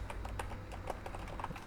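Fingers type on a computer keyboard, tapping out a short command in quick, irregular keystrokes that stay close and fairly quiet, with no talking.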